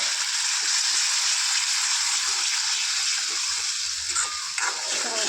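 Water poured into thick frying onion-garlic masala for a home-cooked mutton curry, giving a loud, steady, close hissing sizzle that holds for several seconds with faint bubbling underneath; no voices.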